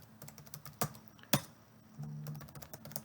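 Quick, light keystrokes on a computer keyboard while logging into a CIPer 30 controller shell through PuTTY, a steady close patter of clicks with a couple of sharper key hits, no voices.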